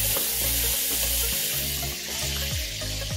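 Spicy samosa filling sizzles and fries steadily in a hot pan as peas are added and stirred in, with scraping stir sounds over a constant loud crackle and no talk.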